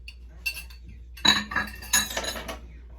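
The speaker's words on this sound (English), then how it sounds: "now let me beat up this one egg" Metal utensil clinking against a bowl while one egg is beaten for brookie batter, a few sharp taps and scrapes in short bursts, close and fairly quiet.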